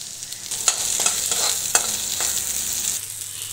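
Chopped tomato frying in hot oil over lightly fried onions, a close steady sizzle broken by a few sharp spatula scrapes and stirring strokes, with no voices.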